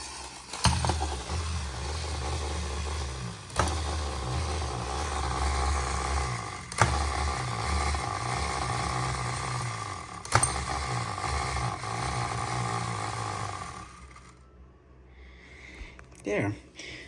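A wound-up Yonezawa tin toy cook runs its clockwork mechanism, a steady close whirring buzz with periodic clicks and knocks roughly every three seconds, then stopping; someone talks over it.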